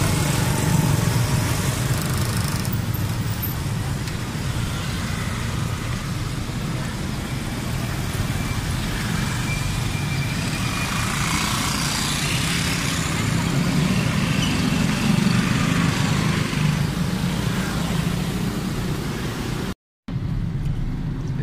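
Steady engine drone and road rumble inside a moving car on a ride through Pontianak, continuous and fairly loud throughout with a brief dropout near the end.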